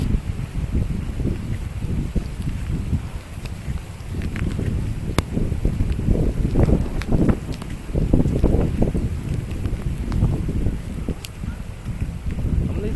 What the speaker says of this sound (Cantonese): 咁應該都會錄啲風聲喺度啦。